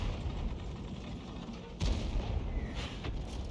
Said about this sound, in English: he's lobbing shells in the same direction